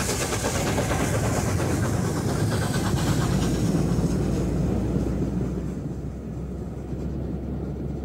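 LNER Class A4 steam locomotive Mallard, number 4468, pulls away from Skipton heading north on the Settle and Carlisle line, a loud sustained rumble of the train rolling past with rhythmic rail clatter that eases slightly toward the end.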